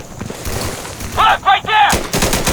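Gunfire from the tactical shooter game Insurgency, several loud close bursts of rapid shots in quick succession, with a voice briefly heard between them.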